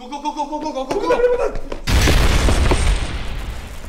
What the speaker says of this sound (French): on va apprendre à recréer un effet d'explosion que vous allez voir juste ici